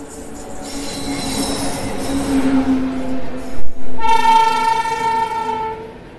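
The Patna to Rajgir special train rumbles along loudly as its wheels squeal in long, high sustained tones, then a horn blows near the end.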